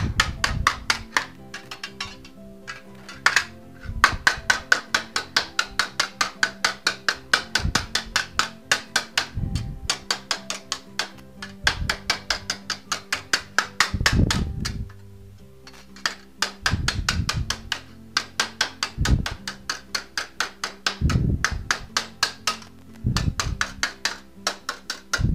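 Repeated hammer blows on copper laid over steel vise jaws used as an anvil, sharp metallic strikes in quick regular bursts with brief pauses between runs, close and loud, no talking.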